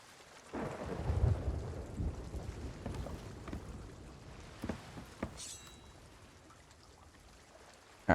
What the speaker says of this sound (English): Waiting for the storm to finally finish.